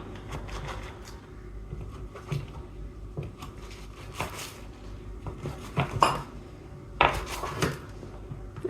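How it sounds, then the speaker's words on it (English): A knife chops rolled vegan cinnamon roll dough in a pan, giving a string of soft clicks and knocks of the metal blade against the pan in an uneven rhythm, close and fairly quiet, with sharper taps near the end. "Okay, I've managed to chop these ones a little bit more evenly"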